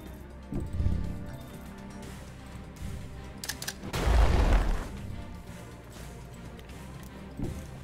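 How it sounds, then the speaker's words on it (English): A grenade detonates in the video game Age of Wonders Planetfall, one loud low boom partway through, with smaller thuds and game effects around it. "Have a grenade."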